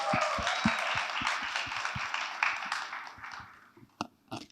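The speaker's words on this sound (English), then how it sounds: "Let's hear a round of applause for everybody." Audience applause at a design industry panel talk, a modest cluster of hands clapping briskly, then tapering into scattered claps and quieter room noise before a couple of sharp final knocks.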